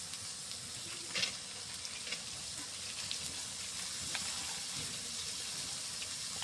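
Chana dal (split chickpeas) sizzles and fries in a pan with chopped garlic, onion, green chili and cardamom paste, a steady close hiss with occasional stirring scrapes and no talk.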